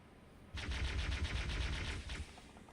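A weapon fires in a rapid burst in Halo 2, a steady, fast stream of close, loud shots lasting about one and a half seconds over quiet background hum.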